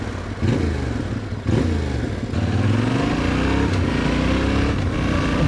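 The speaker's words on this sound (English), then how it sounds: "it does sound nice. Nice little blarty, typical twin sort of brap." A Yamaha Tenere World Raid twin-cylinder adventure motorcycle on its stock cam gives a close, blatty exhaust note, with throttle blips and revs rising and falling over a steady engine rumble.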